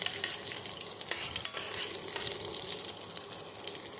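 Sliced green chillies sizzle and fry in hot oil with cumin seeds in a pan, a steady crackling hiss throughout with faint stirring scrapes, close and alone.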